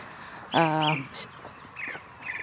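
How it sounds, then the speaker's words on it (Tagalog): A bird gives a harsh, rasping caw close by, followed by fainter calls from birds further off in an otherwise quiet outdoor village setting. "Kasi maraming ibon. Naririnig nyo ba yan?"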